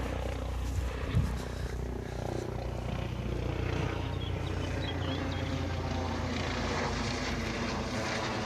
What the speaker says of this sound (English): Chopper's coming over.